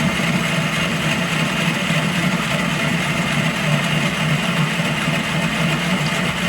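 B30 vertical milling machine cutting metal at about 200 RPM, a steady, continuous machining whir and hum throughout without speech.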